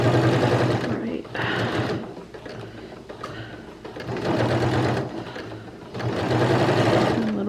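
A sewing machine runs in three sustained bursts of stitching along the seams of a slippery fabric for Simplicity pattern 8612, its motor whirring loud and close with short pauses between runs.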